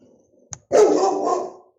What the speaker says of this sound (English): Now the dog wants to tell you about the problems.